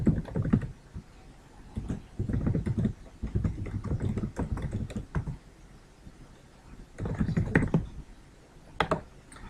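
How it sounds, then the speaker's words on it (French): A full web address typed out on a computer keyboard, with bursts of rapid, close key clatter separated by short pauses and a final firmer keystroke. "je tape l'adresse complète, j'appuie sur Entrée"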